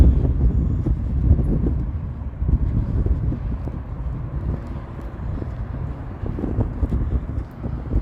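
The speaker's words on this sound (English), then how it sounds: "I'm walking right smack into a gusty wind." Gusty wind on a downtown Toronto street in April buffets the microphone with a steady low roar that swells and eases, with faint traffic and street noise underneath.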